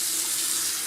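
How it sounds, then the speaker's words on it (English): Water streams steadily from a newly installed bathroom sink faucet into the basin, a constant close hiss of flow with no voices. "We're running water."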